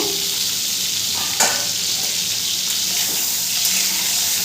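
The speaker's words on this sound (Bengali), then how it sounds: "এরপর নেড়ে দেবো।" Pointed gourd curry being stirred in a pan over a medium gas flame, a steady sizzling hiss broken by a few soft scrapes of the spoon.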